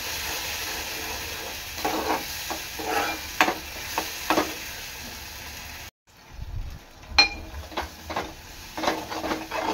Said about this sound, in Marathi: यामध्ये आता मी आपलं वाटण टाकणार आहे। वाटण चांगलं तेलात मिक्स करून घ्यायचं आहे।